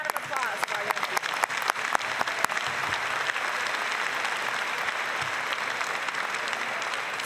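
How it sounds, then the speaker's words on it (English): An audience at a national convention opening session applauds loudly and steadily throughout, dense clapping with a few sharper claps standing out near the start. "Another round of applause for our young people."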